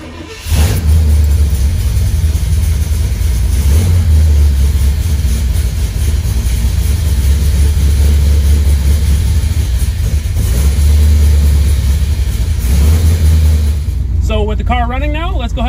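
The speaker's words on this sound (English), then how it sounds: "you turn the key, it starts. It's gonna run." A 1970 Cutlass with a 350 engine and Holley Sniper EFI cranks and catches, then runs with a loud, close, deep rumble throughout, ending with a brief voice.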